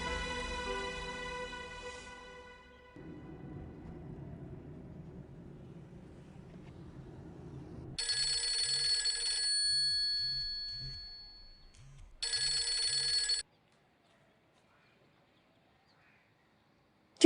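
A landline-style telephone rings in a quiet indoor domestic scene, two bursts of bright electronic trilling, each a rapid string of rings, after low music fades, then silence.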